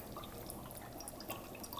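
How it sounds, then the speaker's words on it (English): Liquid from a dry ice experiment drips over a container's rim, with a steady bubbling and fizzing wash broken by small scattered drips, close and fairly quiet, and no voices. "It's just dripping over."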